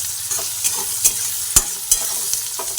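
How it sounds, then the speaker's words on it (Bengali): Onions fry in a pan with a constant sizzle, punctuated by regular scraping knocks of a spoon stirring every half second or so, close and fairly loud with no talking. "আর পেঁয়াজটা ভেজে নিচ্ছি পেঁয়াজ অল্প ভাজা হয়ে যাচ্ছে"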